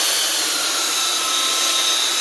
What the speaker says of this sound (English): Okay, we're gonna keep sanding.